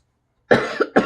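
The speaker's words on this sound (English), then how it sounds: "I had a little bit of a coughing fit" A woman coughs in a short burst of three harsh coughs, close and loud, after a moment of silence.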